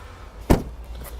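The rear door of a 2016 Ram 1500 SXT four-wheel-drive pickup opens with a single short, solid clunk of the latch, close to the microphone, over faint outdoor ambience.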